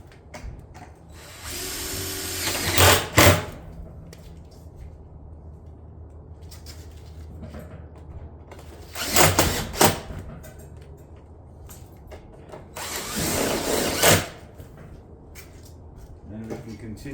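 A screw gun drives 2.5 inch panel screws through a shingle ridge cap on a ridge vent into the roof decking, in three separate loud bursts of a few seconds each, with quieter gaps and faint birds cooing between them.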